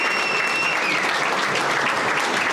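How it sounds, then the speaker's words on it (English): Audience applause at the close of a corporate celebration event, a dense, steady wash of clapping that stays loud and close throughout with no talk over it. "So give yourselves a round of applause."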